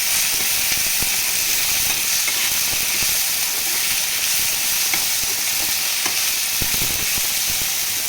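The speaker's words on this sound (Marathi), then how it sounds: "लसूण, आलं सगळ्यातच भाजून घेते।" Garlic and ginger frying with tomato in a pan for matar paneer, a loud continuous sizzle with occasional stirring scrapes and clicks, no talking.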